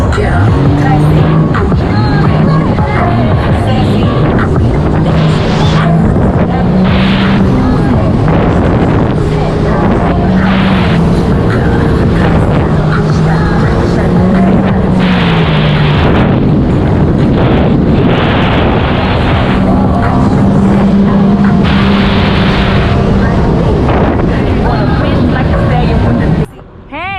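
A Sea-Doo GTX300 jet ski runs steadily across open water, its loud engine drone mixed with heavy wind buffeting and splashing, close and continuous, with people talking over it.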